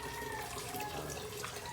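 Water bubbles and churns at a steady boil in a pot, a continuous close hiss and gurgle with no voices.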